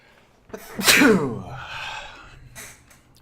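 A single loud sneeze close to the microphone, a sharp burst followed by a brief trailing exhale, then quiet.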